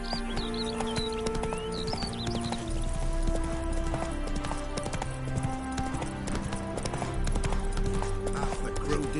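Geralt's horse Roach in The Witcher 3 trots along with steady rhythmic clip-clop hoofbeats, close and continuous, over game music, with a brief neigh and some speech in the background.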